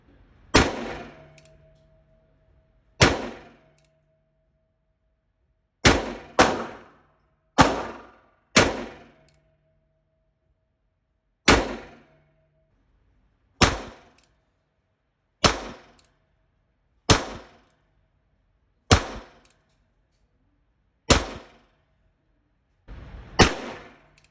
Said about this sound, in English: shot as fast as I can offhand just to kind of get an idea of where those shots are going and how I shoot this firearm